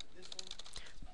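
Typing on a computer keyboard while entering text into a software form, a quick run of light clicking keystrokes with steady room tone and faint speech-like sound underneath.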